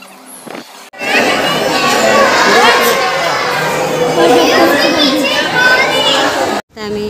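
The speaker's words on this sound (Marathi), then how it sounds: "गर्दी भरपूर आहे." A dense, loud crowd of visitors and children at Rani Baug zoo in Byculla, Mumbai, near the penguin enclosure, with continuous overlapping chatter and children's voices across most of the stretch.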